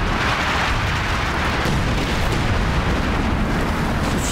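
Artillery fire and explosions in a large multiplayer war video game set in a forest map, a dense unbroken roar of blasts and rumble, loud and steady throughout with no voices.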